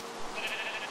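Sheep bleating in the video game Minecraft, a single short, moderately loud bleat against a light background hiss.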